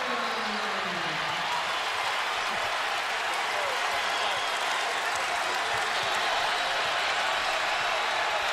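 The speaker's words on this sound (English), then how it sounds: "Pro Auburn crowd erupts again on their feet." A pro-Auburn basketball crowd in Birmingham roars and applauds during a UAB vs. Auburn game, a dense, continuous wall of cheering that is loud throughout.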